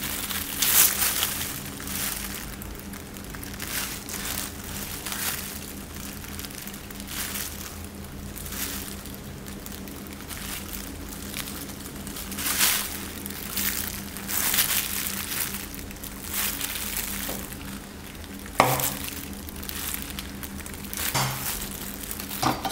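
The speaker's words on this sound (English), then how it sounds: "Use a knife to cut crisscross on the flesh to make some dices." A knife scores a crisscross pattern into halved mango flesh, giving repeated soft scraping and crunching strokes at an uneven rhythm, close and moderately quiet, with one sharper tap near the end.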